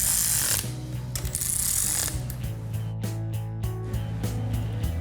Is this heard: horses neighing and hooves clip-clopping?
no